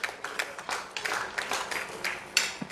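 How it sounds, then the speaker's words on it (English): An audience at an award ceremony dinner applauds, a loose, moderately loud spread of many hands clapping for a few seconds without any voices. "Let's give him a round of applause again."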